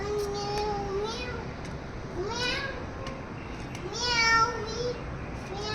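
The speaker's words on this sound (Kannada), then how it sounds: "ಮ್ಯಾವ್ ಕಿಟನ್ ಬೆಕ್ಕಿನ ಮರಿ" Several high, thin kitten meows rise and fall one after another over steady background noise, with a louder cry near the end.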